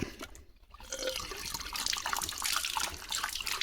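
Tap water runs steadily in an outdoor rural setting, a continuous splashing rush with a brief dip near the start, then constant and fairly close, with no speech.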